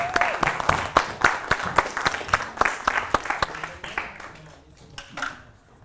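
A small audience at a climate justice music and arts mini-fest keeps clapping while a performer sets up. Separate, sharp claps come in a loose rhythm and thin out toward the end, with faint voices in the gaps.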